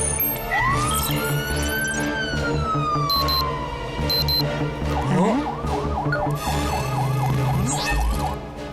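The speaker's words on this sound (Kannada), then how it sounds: "ಇದು ಸೈರನ್ ಯಾಕೆ ಹೊಡಿತಾ ಇದೆ?" A cartoon siren wails loudly in rising and falling sweeps over busy animated background music, switching partway through to a faster warbling pattern of repeated up-down whoops.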